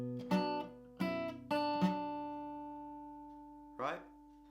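Acoustic guitar plays the short opening phrase of a song: a few plucked notes and chords that ring out clearly on their own and decay, with one last strum after a pause.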